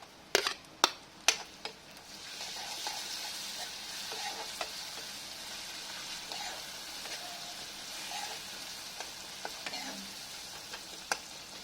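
Onions and garlic paste fry in a pan for an egg curry, giving a steady soft sizzle after a few sharp taps of a utensil at the start, with occasional stirring clicks.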